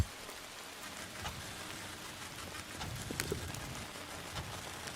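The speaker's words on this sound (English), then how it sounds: "Just the sound of the rain can do it." Steady rain in the video game Outbound, a dense, even patter falling throughout with scattered sharper droplet taps and no voices.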